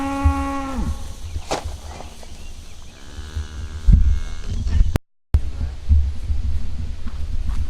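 Cattle, a bull and cows, moo on a farm. A few deep, drawn-out calls ring out close by over low thumps and background noise.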